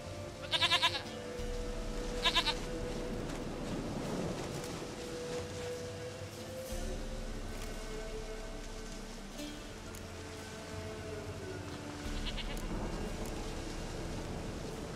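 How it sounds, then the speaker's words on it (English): Goat bleating in the video game The Witcher 3: Wild Hunt, two short, close bleats near the start and one more later, over a steady rain-like ambient bed. "Goat of mine, dearest, sweetest goat."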